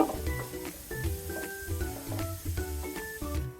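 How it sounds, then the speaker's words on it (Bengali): Three chopped onions fry in a pan toward light brown, a soft, quiet sizzle broken by rhythmic stirring scrapes and light clinks, no talk. "দিয়ে দিলাম পেঁয়াজটা হালকা বাদামি করে আমি ভেজে নেব"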